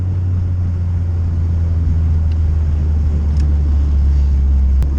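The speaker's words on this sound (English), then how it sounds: "I'm kind of just driving it right now, cruising, and varying my loads on the throttle, and doing a lot of engine braking" A built, high-compression Vitara D16 single-cam engine in a car cruising under varying throttle and engine braking, a steady, loud low drone that holds even throughout with no break.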